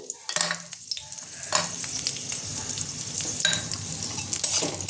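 Pieces of bitter gourd fry lightly in oil in a pan, a soft sizzle with intermittent scraping and clinking as a spatula stirs them, close and moderately quiet.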